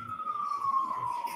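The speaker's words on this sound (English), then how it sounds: "let me just let the siren move on." An emergency vehicle siren wails past outside a courtroom, a single steady tone sliding slowly downward as it moves away, faint and brief.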